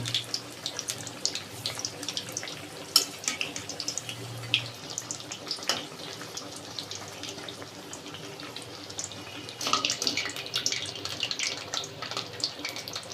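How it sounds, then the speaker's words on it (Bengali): Potato chops (aloo chop) deep-fry in hot oil in a home kitchen. A steady, close sizzling hiss continues throughout, broken by scattered crackles and a louder bubbling flare near the end. "এই চপগুলোর পিসটা ভাজা হয়ে গেছে এখন উঠে দিব"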